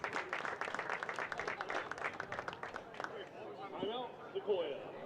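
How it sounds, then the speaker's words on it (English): Crowd at a school baseball game claps for honored educators, a short burst of scattered applause that fades into murmuring, with a voice speaking over the end. "Parents, please give a round of applause to our honored educators."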